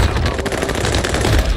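Loud, dense automatic gunfire from Call of Duty Warzone on Rebirth Island, a continuous close burst of shots that fills the short stretch without a pause.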